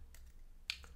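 A few sharp computer keyboard key presses on a Mac, entered as shortcuts, with two or three light taps and one louder click, close and clear with no talking.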